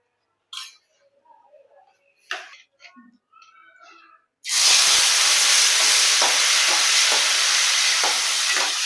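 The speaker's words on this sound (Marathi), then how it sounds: "आणि हे लावून आपल्याला याला फ्राय करून घ्यायचं आहे तेलामध्ये" Prawns drop into hot oil and burst into a loud, steady sizzle that carries on to the end, after a few sparse clinks and taps of preparation.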